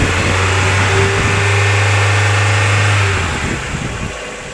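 Engine of a 2004 Mazda Miata NB with about 85,000 miles and slight blow-by runs steadily, a close, loud, even mechanical hum that eases off toward the end.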